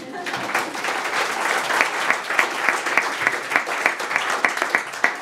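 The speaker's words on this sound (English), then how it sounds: "You can applaud yourselves now" A room of attendees at a UCL alumni entrepreneurship networking event claps steadily, a dense, even patter of many hands with sharper individual claps poking through.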